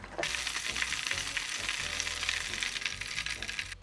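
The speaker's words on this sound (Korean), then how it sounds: "굴튀김은 너무 오래 튀기지 마시고 살짝 노릇해지면 건지시면 돼요" Oysters deep-frying in hot oil, a close, busy crackle and sizzle that runs steadily without pause.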